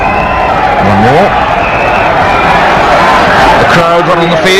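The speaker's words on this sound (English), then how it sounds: "Crowd run on the field thinking that's it" Spectators at the 1983 World Cup cricket semifinal between West Indies and Pakistan cheer and surge onto the field, a dense, loud crowd roar under steady commentary.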